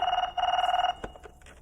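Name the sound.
telephone ringing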